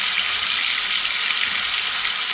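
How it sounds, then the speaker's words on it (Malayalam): Small chicken pieces dropped into a pan of hot oil in a home kitchen produce a loud, dense, steady sizzle from start to finish. "ആ ചട്ടിയിലേക്ക് നമുക്ക് ചിക്കൻ പൊരിക്കാനുള്ളത് ഇട്ട് കൊടുക്കാം."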